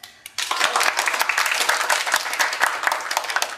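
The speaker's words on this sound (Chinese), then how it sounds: "那么在这里，我希望大家给他最热烈的掌声。" A roomful of office colleagues bursting into applause for a coworker, clapping starting abruptly and continuing as a lively, steady patter of many hands to the end.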